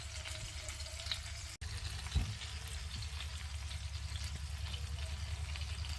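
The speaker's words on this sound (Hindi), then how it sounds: "मैं इनको बिल्कुल हल्की आंच पे पका रही हूँ" Tawa kebabs frying over a low flame, a steady soft sizzle and crackle going on throughout, with a brief scrape or clink partway through and a small splash of louder sputter just after, no voices.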